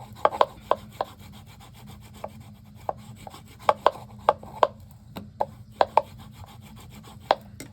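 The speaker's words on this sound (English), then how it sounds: "And burnish that down." Stacked cardstock layers being burnished down, giving a quiet rubbing bed with a series of sharp, close clicks and taps at an irregular pace, with no talking.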